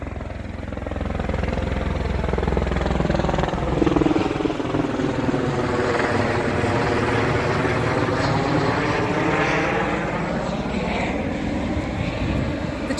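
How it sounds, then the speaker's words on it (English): A helicopter flies over Aldinga Beach in South Australia, its loud, steady rotor drone sweeping gradually in pitch as it passes for the whole stretch, with no talk. "The chopper's out."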